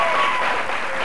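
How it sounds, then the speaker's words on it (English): Studio audience applause on a TV show appearance by a high school marching band, a short burst of dense clapping from a crowd, fairly loud and close, with faint voices mixed in. "let's give him a round of applause"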